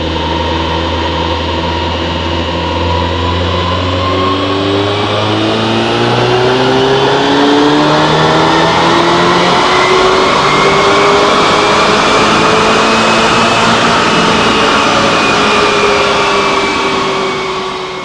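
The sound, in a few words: tuned VW GTI engine revving during dyno pull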